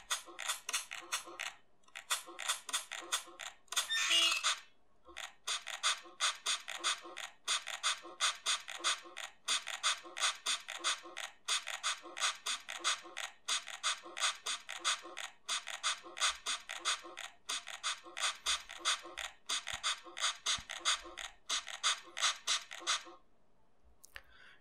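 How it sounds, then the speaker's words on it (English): Drum beat assembled from everyday object sounds in a Google AI experiment, including a Ford Model A sample. Quiet rattling, clicking and scraping hits in a steady looping rhythm that runs for over twenty seconds, with no talking. "a drum made out of everyday sounds"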